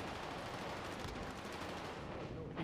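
Rapid gunfire rattles in an online shooter video game, a dense continuous burst of shots heard fairly faint and at a distance over game ambience, with no talk.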